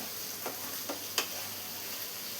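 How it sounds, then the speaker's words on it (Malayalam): Mango pickle mixture stirred in a pan on low flame: three light scraping taps spaced under a constant gentle sizzle, close and quiet. "ഒരു 4-5 മിനിറ്റോളം ഇതുപോലെ ഒന്ന് മിക്സ് ചെയ്ത് കൊടുക്കണം"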